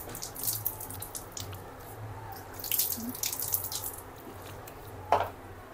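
A T-shirt is washed by hand under running tap water in a small home sink, with a soft steady flow and light splashes, one sharper splash near the end.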